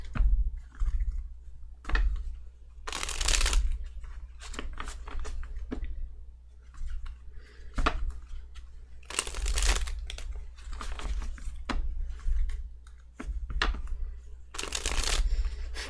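Tarot cards being shuffled in repeated crisp riffling bursts, each followed by quieter handling and tapping, close up with no talking.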